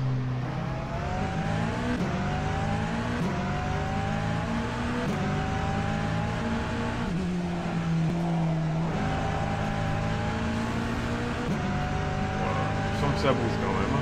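A Porsche 963 LMDH race car in the rFactor 2 simulation drones through repeated gear changes, its engine pitch climbing and dropping in steady sweeps at constant loudness, with a voice talking over parts.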